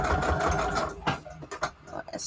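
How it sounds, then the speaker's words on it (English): A sewing machine stitching through a paper mini book page with a flower added, running in a steady mechanical buzz up close, then slowing into a few short stop-start bursts. "let's sew this up really fast."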